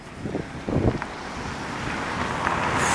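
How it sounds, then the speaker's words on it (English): Gusty wind on a cold city street in Montreal's Ville-Marie district buffets the microphone with a steady, broad rush that builds over a few seconds, alongside a few faint footfall-like thumps. "Oh, Christ, it's cold. Jesus. Friggin' wind."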